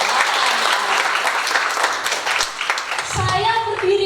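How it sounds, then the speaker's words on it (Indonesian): Audience applause at a faculty graduation ceremony, a steady wash of many hands clapping that fills the room, with a voice starting to speak near the end. "Ya, kasih aplaus dulu."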